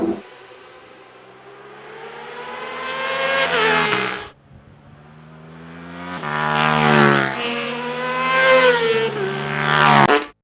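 A KTM 890 Duke R race motorcycle laps a dry track in qualifying, its engine loud and close as it revs through rising and falling gears, cutting off briefly before howling back up, with no talk.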